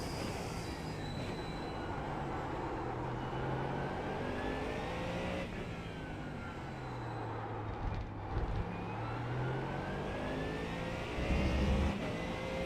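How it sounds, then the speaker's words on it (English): A GT3 race car engine roars around Silverstone in a racing video game, rising and falling through gear changes with a sustained loud whine and tire noise, no voices. "the Merc and the Mustang both have great sounding engines"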